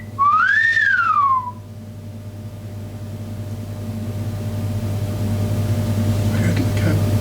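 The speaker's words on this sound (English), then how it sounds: "Maybe do a wolf whistle." A single loud wolf whistle swoops up and falls back down, followed by a low steady hum with faint rustling.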